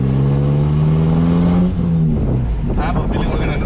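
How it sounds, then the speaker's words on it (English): Lowered Honda Civic EK hatchback from a junkyard build, its exhaust droning loudly while driving, with engine pitch rising then dropping as the car shifts and settles, close and steady throughout. "I still don't like the exhaust, but it's decent."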